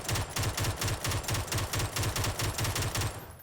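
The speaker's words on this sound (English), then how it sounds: "that sounds like an automatic weapon" A FAMAS fires fully automatic in PUBG, a rapid, evenly spaced stream of loud shots in a couple of long bursts, close and punchy, ending as the echo fades.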